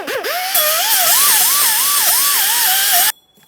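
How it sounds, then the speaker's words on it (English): A power tool with a sanding disc or wire brush whines loudly against a wheel hub mating surface on a 2008-2017 Mitsubishi Lancer, pitch wavering as the pressure changes, then cutting off abruptly. "To clean the hub mating surface, you can use a sanding disc or a wire brush."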